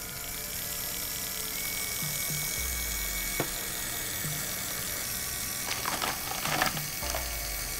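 A Lego spirograph drawing machine runs with a quiet, steady mechanical whir, punctuated by faint ratcheting gear clicks and a few brief sharper ticks near the end, with no voices.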